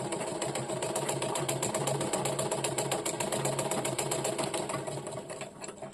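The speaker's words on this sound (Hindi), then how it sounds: "फ्लाइंग व्हील को अपने तरफ घुमा के मशीन चलाना स्टार्ट करेंगे।" A domestic sewing machine, started by turning the flywheel by hand, stitches steadily on paper with a fast, even, close mechanical chatter that runs for several seconds and does not pause.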